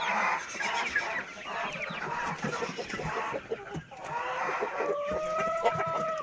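On a village farm a rooster crows among clucking chickens, the flock's busy chatter filling the background while a clear crow rises near the end.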